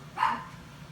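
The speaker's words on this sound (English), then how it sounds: "Darn dogs." A single sharp dog bark near a home with a large reef aquarium, one short burst standing out over a quiet room background.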